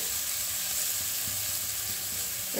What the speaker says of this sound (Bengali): পেঁয়াজটা খুব ভালো করে ভাজবো না, মিডিয়াম ভাজবো